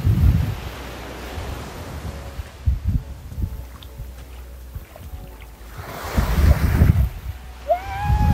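Surf washes onto the beach at Trunk Bay on St. John in the US Virgin Islands, with waves breaking and rushing up close to the microphone at the start and again near the end, separated by quieter wash and some wind.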